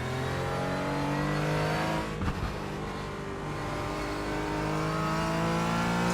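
A Porsche 718 Cayman GT4 in the iRacing sim roars under load, its engine note rising steadily with layered harmonics and a brief dip mid-run as it shifts, loud and continuous throughout.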